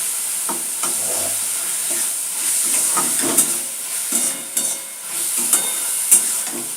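Red amaranth greens stir-fried in a pan with garlic: a close, steady sizzle broken by repeated scraping stirs and sharp spatters at an uneven rhythm, with no talking.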